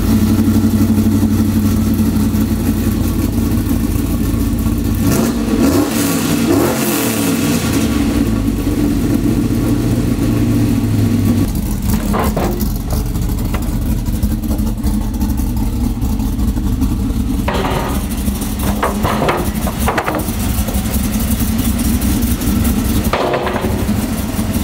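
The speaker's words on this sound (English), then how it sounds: "But it sounds pretty good. I don't know if we're gonna keep this exhaust." A car engine idles and revs through a newly fitted exhaust, loud and close, with a deep steady rumble and several rising throttle blips.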